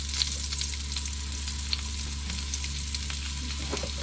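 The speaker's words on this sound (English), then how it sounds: "I take the burdock without getting killed by the spatters, and I put it in the pan." Burdock root frying in a hot pan, a dense spattering sizzle with faint stirring ticks over a low steady hum, close and continuous, no voices.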